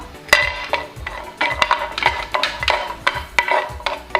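Almonds stirred in melted ghee in a pan make repeated scraping and clinking strikes of spoon against metal in an uneven rhythm. The sounds are close and fairly loud and there is no talk.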